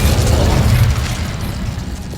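A fiery blast from the Incendio fire spell cast in Hogwarts Legacy, a dense low roaring burst that holds steady for about a second, then thins into a sustained crackling rumble, loud and close, with no talking.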